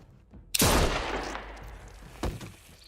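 Gunfire in The Walking Dead Telltale game: a single loud, close shot bursts out with a long decaying tail, followed about two seconds later by a second, weaker report, no talk over it.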